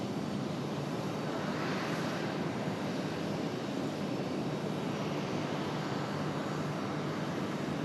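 A Moxie airliner taking off and climbing steeply at Raleigh-Durham International Airport, heard as a continuous broad jet roar that holds steady and loud throughout with no pauses.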